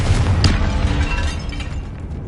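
A Confringo fire spell explodes in a Hogwarts Legacy tomb, a loud boomy blast with a sharp pop near the start that rumbles and fades over about two seconds.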